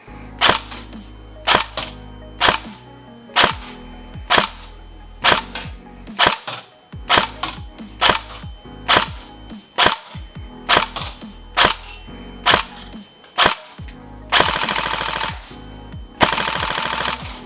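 A Tokyo Marui SCAR-L Next Gen recoil shock electric blowback airsoft rifle fires during a chronograph test, giving a close, loud run of sharp single shots at a steady pace and ending with two longer sustained bursts.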